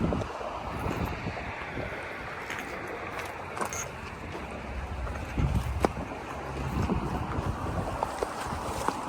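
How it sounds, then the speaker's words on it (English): Sustained 15 to 20 mph wind blowing on a bridge at Bahia Honda Key in the Florida Keys, a steady broadband rush with buffeting gusts against the microphone and no clear talk. "It's sustained 15 to 20 mile an hour winds right now."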